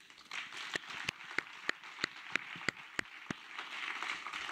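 An audience at an awards ceremony applauds, with scattered sharp claps standing out over a steady soft patter of clapping that carries on throughout, heard from some distance.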